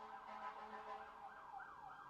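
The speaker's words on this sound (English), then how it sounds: "Here come the sirens again." Emergency vehicle sirens wailing outside, rising and falling in a steady cycle, faint and distant with no other sounds over them.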